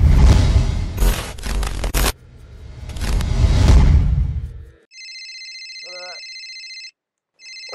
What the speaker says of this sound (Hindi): किसका फोन आ गया मेरी छाती पे?